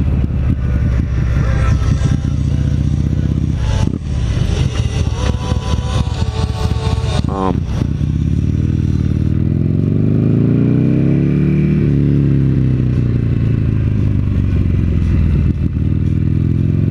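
A Buell XB9R Firebolt motorcycle engine revs and runs while riding, loud and close, with throttle surges, a brief dip, then rising and falling engine pitch as it pulls away.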